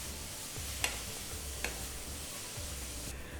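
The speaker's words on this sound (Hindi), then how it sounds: "अब इसको भूनिए, 4-5 मिनट तक भूनिए अच्छे से।" Tomato masala roasting in a pan for a dry taro dish, a faint even sizzle with a few light spatula clicks.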